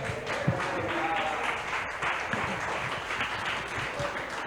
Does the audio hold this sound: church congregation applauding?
yes